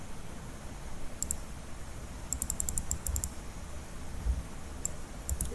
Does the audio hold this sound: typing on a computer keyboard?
yes